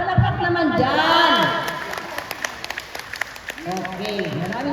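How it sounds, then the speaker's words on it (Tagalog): Crowd clapping at a Christmas party for a ladies' group in a subdivision, a burst of applause with loud amplified voices talking over it and scattered claps fading in between. "Palakpak naman dyan."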